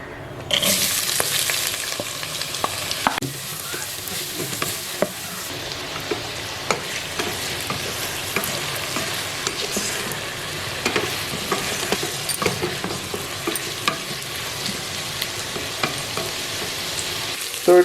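Chopped onions sizzle and fry steadily in an electric pressure cooker pan with whole spices, with occasional stirring scrapes cutting through the continuous loud hiss.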